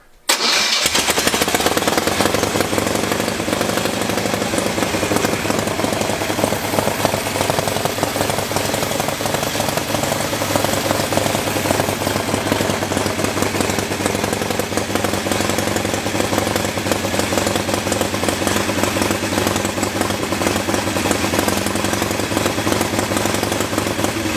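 An old engine on a motor stand cranks and catches almost immediately, then runs loudly and steadily with a rough, throbbing idle close by.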